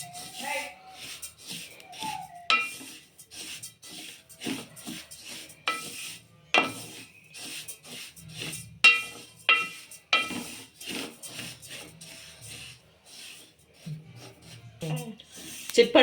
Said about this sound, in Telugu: ఇప్పుడు కొంచెం ఇదిగో చిట్పట్ చప్పుడు వస్తుంది